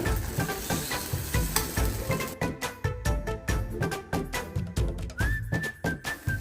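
Sweetcorn batter frying in olive oil in a paniyaram pan, a crackling sizzle broken by regular rhythmic clicks and taps, with a brief high whistling tone near the end.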